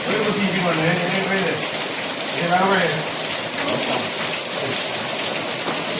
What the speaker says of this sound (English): So the rain a fall in the evening now.